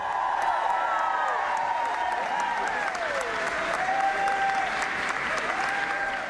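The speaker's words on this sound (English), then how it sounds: "Lula was applauded by the audience." An audience applauds Lula as he accepts an honor: a dense, continuous wash of clapping from a large crowd, with a few whistles and cheers rising over it.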